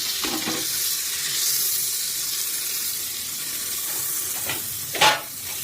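Butter melts in a hot pressure cooker over a lowered gas flame, giving a steady, close sizzle and hiss with a brief clatter of stirring partway through.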